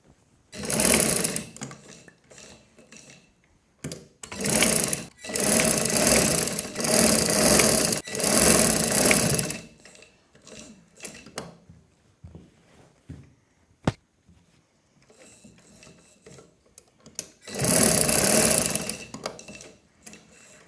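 Sewing machine stitching a baby girl's frock, running in several bursts of steady whirring separated by brief pauses, loud and close with no talking.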